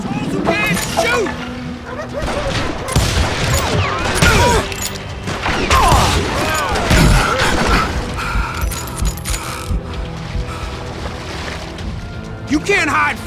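Gunfire and crashing effects from the Western shooter Call of Juarez: Gunslinger, with sharp shots and impacts scattered through a dense mix of game sounds, voices and music.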